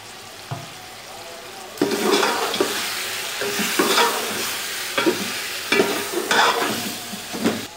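Ground coriander, cumin and whole garam masala sizzling in a pot for Punjabi chicken pulao, with repeated stirring scrapes and bursts of frying over a steady low hiss.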